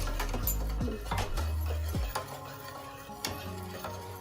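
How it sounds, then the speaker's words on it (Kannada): A ladle or stick stirs ragi flour into boiling water for porridge, producing scraping knocks against the pot and thick bubbling, uneven strokes close by with no talk. "ಹಿಂಗೆ ಹಾಕಿ ಹಿಂಗೆ ಕೈ ಆಡಬೇಕು"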